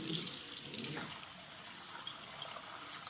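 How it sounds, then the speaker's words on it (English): Hot water runs steadily from a tap into a sink for polishing silver flatware, a constant hiss and splash that stays even throughout. "I'm going to add a little bit more hot water."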